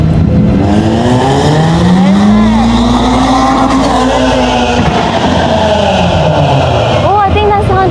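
A Honda Civic at a late-night street meet roars loudly and continuously, engine pitch swelling and falling with brief tire-squeal chirps near the end, close and dominant under the hubbub.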